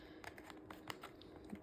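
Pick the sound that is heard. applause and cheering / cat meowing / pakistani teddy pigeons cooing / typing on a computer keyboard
typing on a computer keyboard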